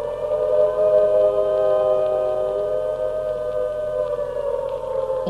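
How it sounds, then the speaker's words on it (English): Wartime air raid siren sounding a loud, sustained, wavering wail that rises and falls gently over several seconds, steady throughout, with no voices. "when the speech ended, immediately the siren went."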